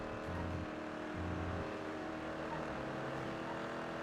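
Car engine droning and shifting pitch as it drives along in a GTA roleplay game, a steady close motor hum with revving swells and no talk.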